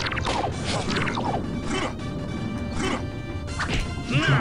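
Dynamite thrown into a hole blasts in the pirate platformer Captain Claw, followed by crashing debris and clattering, creaking mechanisms, a busy close run of smashes and knocks.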